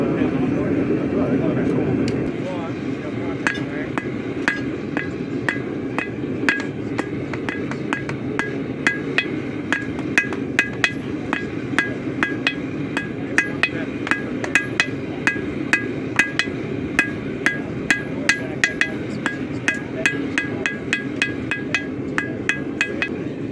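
A blacksmith hammers a taper on hot steel at a guild meeting, ringing blows landing in a fairly regular rhythm over a steady background roar while people talk nearby.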